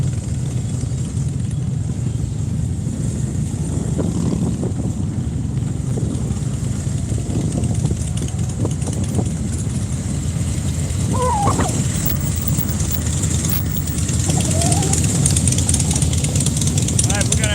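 Motorcycles idling at the Sturgis rally, a continuous low engine rumble with some revving and crowd noise around, while a person talks over it.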